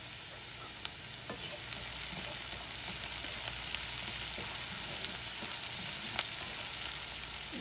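Onions fry in oil in a skillet with a steady, fairly quiet sizzle and crackle, with small pops scattered throughout.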